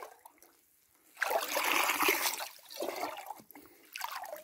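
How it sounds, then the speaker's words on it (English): Water trickling and splashing from the only stream high on a mountain in Norway, a close, hissing burst that swells and fades over a few seconds, with no one speaking. "That's the only water that's up on this mountain."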